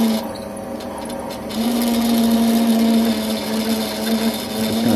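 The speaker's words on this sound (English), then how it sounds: "I'm going to drill all the way through." Old power drill running through an air rifle stock to fit a swivel stud, a continuous close motor whine that strengthens after the first second and holds steady under load, with no voices.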